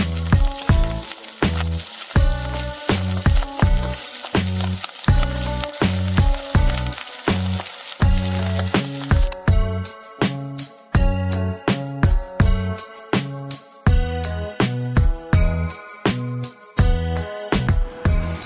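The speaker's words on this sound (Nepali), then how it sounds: "भुटन चाहिँ मजाले भुट्ने। त्यस पछाडि चलाउँदै मजाले चलाउँदै जानुपर्छ।" Bhutan, goat offal, frying in a pan over a clay stove, with a loud continuous sizzle and crackle under repeated rhythmic scraping and knocking as the meat is stirred, sustained for many seconds without speech.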